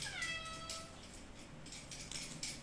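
A pet cat meowing insistently to be let outside, a couple of drawn-out, fairly close meows followed by softer vocal bursts, with no talking.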